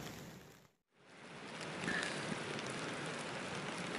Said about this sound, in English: It's been raining all night. Just kind of coming down like this.